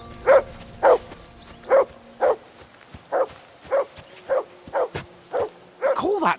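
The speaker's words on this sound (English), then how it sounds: "I assume you can hear that damn dog of yours barking" Henry's dog in Kingdom Come: Deliverance II barks again and again in a steady rhythm, about a dozen loud, close, evenly spaced woofs, ending in a whining yelp.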